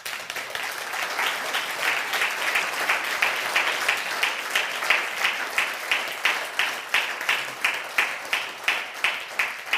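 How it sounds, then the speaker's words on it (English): Audience applause at a DXN business motivational event, a sustained dense clapping crowd that settles into rhythmic unison claps in the second half, fairly loud and close. "A round of applause to both of them."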